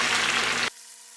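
Balochi chicken tikka frying in a pan, giving a loud, close, dense steady sizzle that cuts off abruptly partway through, leaving only a faint hum.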